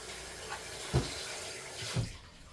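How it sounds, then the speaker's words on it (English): A garlic jar and hands being washed under a running kitchen tap, a faint steady water flow with two brief splashes or knocks, quiet and close. "I gotta wash this jar and my hands"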